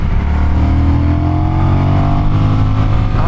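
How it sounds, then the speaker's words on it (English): Honda Rebel 1100 DCT motorcycle engine pulling hard under acceleration, a loud, steady low-pitched drone with rising harmonics, close to the microphone and with no talking. "Oh, and this engine is so punchy."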